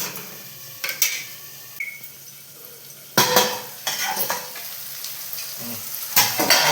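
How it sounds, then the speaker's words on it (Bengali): Chicken pieces stirred with melted tomatoes in a pan, bursts of sizzling and clattering spoon-on-pan scrapes between quieter simmering stretches, close and fairly loud. "টমেটোগুলো অলমোস্ট গলে গেছে হ্যাঁ, গলে গেছে ওরা আমরা নেড়ে দিই"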